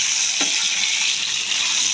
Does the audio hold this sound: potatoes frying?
yes